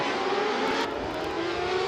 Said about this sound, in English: They're revved up and ready to go. Let's see what our first timers will do, and it is green flag racing.